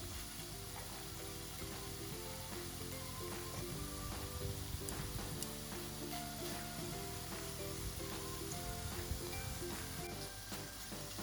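Tteokbokki rice cakes frying in sesame oil in a pan as the sauce caramelizes, a steady, even sizzle and crackle that runs throughout at moderate volume, with occasional faint clicks and no voices.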